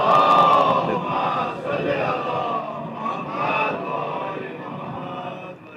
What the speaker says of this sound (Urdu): ایک صلوات اس سے بہتر انداز میں ارشاد فرما